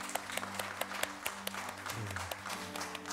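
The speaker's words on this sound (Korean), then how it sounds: "큰 박수 부탁드리겠습니다" A church congregation applauds after a new member is welcomed, scattered hand claps over a steady hum, fairly faint and continuing throughout.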